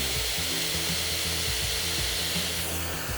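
Hair dryer blowing steadily while hair is being blow-dried smooth with a brush for a slick back ponytail with extensions; a continuous close airy whoosh with a low motor hum and rhythmic brushing pulses, no talking.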